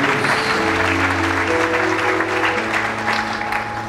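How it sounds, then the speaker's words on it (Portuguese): A church congregation claps steadily and loudly together for about four seconds, with organ or keyboard tones sustained underneath and no speech over it. "Dê um forte aplauso ao Senhor."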